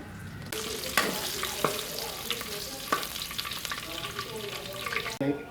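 Pork and garlic sautéing in a pan for a Filipino chayote dish, a steady moderate sizzle broken by several sharp clinks of a utensil against the pan, heard close with no talking.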